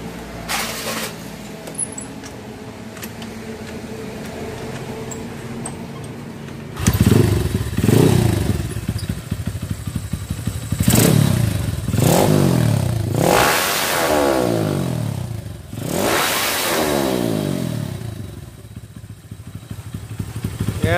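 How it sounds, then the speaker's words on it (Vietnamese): A motorcycle with a Bình Bông Mai carburetor runs after a fuel mixture adjustment, idling at first, then revved up close by in several sharp, rising bursts with mechanical clatter between them. "Nghe tiếng máy nó tròn hơn nha mọi người."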